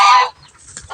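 A single loud, nasal honk from a male duck, close by, fading into quiet background noise.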